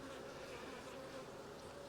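Steady, close buzzing of many honey bees at an open nucleus hive, a continuous droning hum with no pauses.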